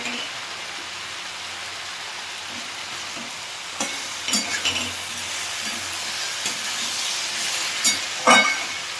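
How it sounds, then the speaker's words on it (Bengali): Spring onion greens with salt, turmeric and Kashmiri chilli being tossed in a pan, with a low frying hiss and scattered louder spatula scrapes and clanks in the second half. "এটা দিয়ে আমি ভালো করে একটু নাড়াচাড়া করে নিই সবজিটা"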